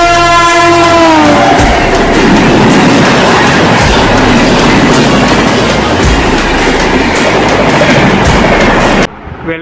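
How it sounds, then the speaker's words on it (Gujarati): The Gujarat Queen AC chair car train, number 19033 between Surat and Anand, roars loudly throughout with dense rumbling wheel noise and rhythmic clickety-clack, a horn briefly sounding at the start, before the sound drops away at the end. "ટ્રેન છે ગુજરાત ક્વીન."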